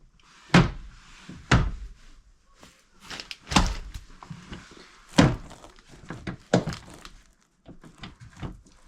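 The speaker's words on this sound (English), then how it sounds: "Open the door again." Door thunks on a Land Rover Discovery 3 being worked on, several solid closing slams and handling knocks at irregular intervals, close and fairly loud.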